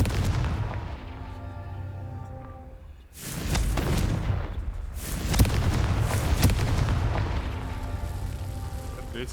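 Confringo fire spell explodes in Hogwarts Legacy, a loud booming blast after a lull, followed by rumbling crackle and further sharp bursts, with music or ambience underneath.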